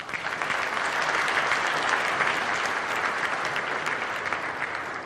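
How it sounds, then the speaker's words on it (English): Sustained, dense applause from a large audience at a development finance forum's opening speeches, steady and loud without a break. "Can we give that a round of applause?"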